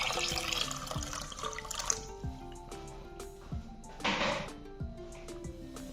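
Hot water trickles and drips into a cooking pot of soaked mash dal, with clinking and tapping of metal or utensils throughout, close by and fairly quiet.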